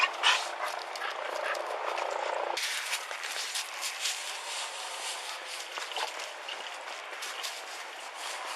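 A police K-9 dog with a sheriff's office unit barks repeatedly outside a house in Seminole County, loud and close over a steady broadband hiss of outdoor noise.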